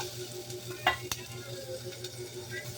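Onion dropped into a pan of browning garlic for chicken tinola sizzles at a low, steady level, with a couple of sharp clinks from a utensil around the one-second mark and faint stirring scrapes.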